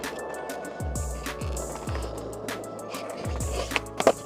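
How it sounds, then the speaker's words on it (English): Rolling skateboard wheels with several sharp board pops and clacks during a pop shove-it trick, then a clattering landing near the end, outdoors and fairly close. "let's try another pop shove"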